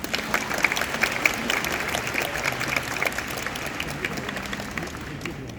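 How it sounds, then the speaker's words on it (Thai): A large crowd at a Miss Grand Thailand farewell event applauds in a sustained, dense roar of clapping with some crowd noise mixed in, steady and full across the whole stretch. "ปรบมือให้ตัวเองหน่อยได้ไหมคะ"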